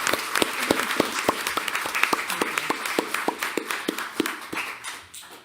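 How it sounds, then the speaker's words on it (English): A township council meeting audience claps in a loose, uneven patter of distinct hand claps that gradually thin out and fade toward the end. "give him a preemptive round of applause"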